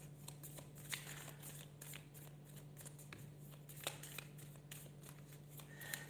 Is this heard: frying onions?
no